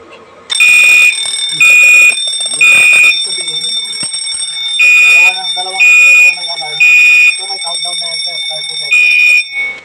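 A fire alarm blares in repeated shrill pulses, roughly one per second, loud and close, during a fire suppression system seminar, while people talk underneath.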